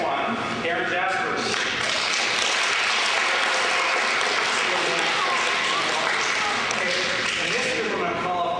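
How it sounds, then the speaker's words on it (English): An audience at a Washington School student recognition gathering applauds a student with steady, dense clapping that holds for the whole stretch, a voice audible underneath. "so just clap for her"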